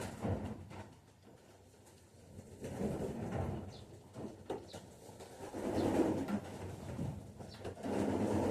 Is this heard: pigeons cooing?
yes